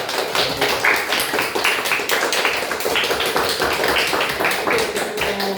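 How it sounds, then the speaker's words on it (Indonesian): Classroom applause from students, a brisk steady patter of many hands clapping together for several seconds, fairly loud and close with no clear speech over it. "tepuk tangan dulu untuk semuanya"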